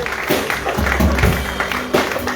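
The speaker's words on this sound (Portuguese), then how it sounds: "Vamos aplaudir Jesus. Aplauda Ele" A church congregation at a Sunday communion service claps together in a dense, steady wash of applause, loud and close, with faint voices mixed in.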